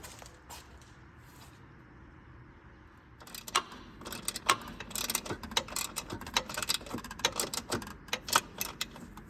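Someone tightens a bolt holding the horn on a 2004–2008 Ford F-150 during AC condenser work, starting with a faint ticking and shifting after about three seconds into a rapid series of close, sharp ratchet clicks with uneven pauses.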